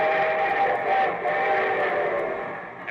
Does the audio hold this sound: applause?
no